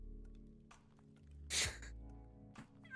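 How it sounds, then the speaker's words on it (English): A single loud, close burp from a streamer playing Yakuza 0, a short guttural burst standing out from quiet game background sound. "That was a burp."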